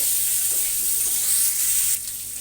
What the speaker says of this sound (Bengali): এবার আমি লবণ হলুদ সব কিছু দিয়ে একটু ভেজে নেব।